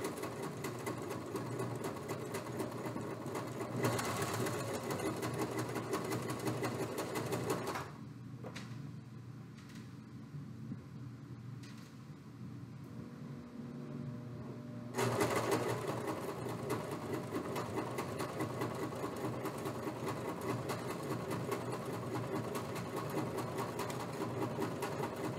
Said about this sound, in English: And I'm just going to continue to sew.